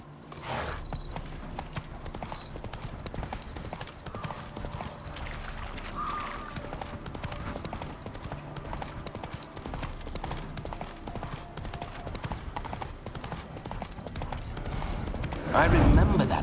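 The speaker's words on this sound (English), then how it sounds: "Spooking my horse." Horse hooves clip-clop steadily on a path in The Witcher 3, a continuous walking rhythm under a voice, with a brief louder burst near the end.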